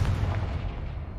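A Confringo blasting spell fires in Hogwarts Legacy, a loud booming burst with a deep rumbling tail that fills the whole short moment.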